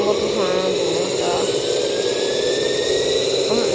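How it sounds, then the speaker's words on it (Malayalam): A jet pack flies in the mobile game Indian Bike Driving 3D, giving off a steady, roaring engine-like whoosh with a rising whine. The sound is loud and continuous throughout. "അപ്പം ഞാനിപ്പോൾ ജെറ്റ് പാക്കിൽ റൈഡിന് പോവാണ്"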